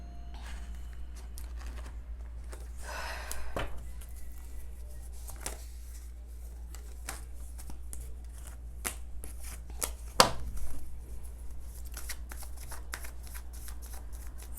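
Tarot cards being shuffled close up in a quiet room, soft repeated riffling and patting bursts of card against card over a low steady hum, with no one talking.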